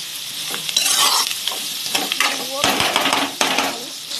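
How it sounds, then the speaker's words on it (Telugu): Dried fish pieces frying and being stirred in a pan at home, a close steady sizzle broken by spoon scrapes and clinks against the metal. "చూసారు కదా ముక్కలు ఎలా వేగుతున్నాయో"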